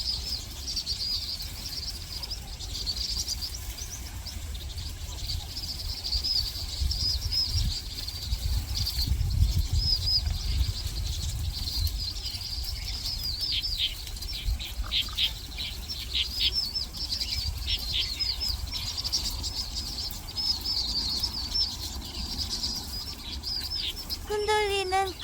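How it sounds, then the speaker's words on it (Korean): Sparrows chirping among swaying reeds in a winter park, with bright, frequent twitters and flutters scattered over a steady rustle of wind through the reed bed, continuing throughout at moderate volume. "흔들리는 갈대 소리와 참새들이 지저귀는 소리가 정말 듣기 좋네요"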